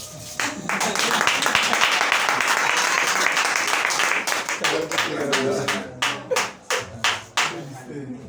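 A church congregation bursts into sustained loud applause that thins into scattered, slowing individual claps, with voices mixed in among the clapping.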